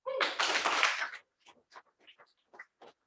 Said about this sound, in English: we respond with thunderous applause